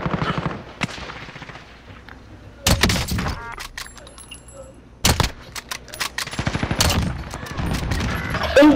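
Loud gunfire erupts in a Ready Player One firefight, sharp bursts and rapid volleys hitting in clusters with quieter gaps between them.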